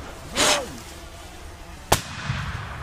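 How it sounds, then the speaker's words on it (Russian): A rushing whoosh with a falling tone passes during an airsoft game, then a single sharp, loud crack of an airsoft gunshot cuts through a quiet background. "Выстрел!"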